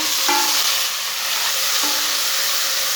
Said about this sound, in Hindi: टमाटर को भी 2 मिनट तक पका लेंगे। टमाटर हमारे सॉफ्ट हो जाएंगे।